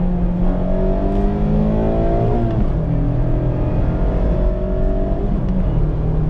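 A 2019 Mazda MX-5 Miata RF's engine revs out and holds high RPMs near its raised redline, a loud, close, steady engine note with rising and falling pitch sweeps as it climbs and shifts.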